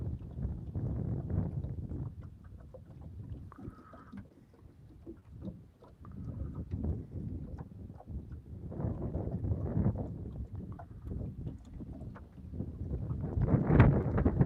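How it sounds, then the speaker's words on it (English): Strong wind gusting over Lake Morena from a fishing boat, a steady low rumbling roar buffeting the microphone, swelling and easing throughout, loud and close with no talk. "this wind is ridiculous"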